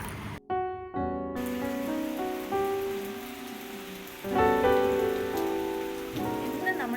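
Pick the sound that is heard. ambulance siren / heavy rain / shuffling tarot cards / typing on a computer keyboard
heavy rain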